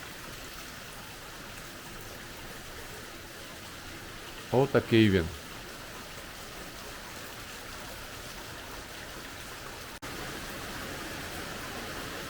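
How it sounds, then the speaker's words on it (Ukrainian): Steady rain hisses evenly throughout, a constant wash of drops; a person briefly speaks partway through over the downpour. "Стандартний дощ, який буває по кілька разів на місяць."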